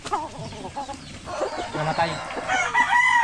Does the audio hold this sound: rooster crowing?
yes